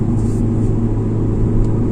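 A Hyundai i20 drives on the road with a steady, loud engine rumble, speeding up toward 40-50 km/h around 3000 rpm before shifting gear, with heavy low drone throughout.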